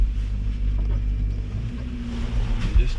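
Low, steady engine drone and rumble from a 4WD mini truck crawling through snow in extra low first gear, heard close with a dull, muffled bass and a faint thump near the end.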